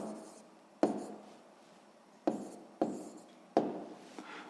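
Pen or pencil writing the answer to a sixth-grade math exercise on paper, a few sharp strokes and taps spaced irregularly over soft scratching, close and fairly quiet.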